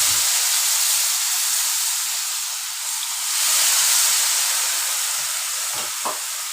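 Mustard and green chilli sizzle in hot oil in a pan while cooking a jackfruit seed curry: a steady, loud, hissing fry that runs throughout, with a brief stirring clatter near the end.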